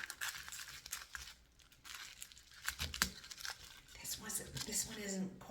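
A sticker is peeled off its backing and pressed down while making fancy face bars, giving soft crinkling and tearing rustles in short bursts, with a voice talking over much of it.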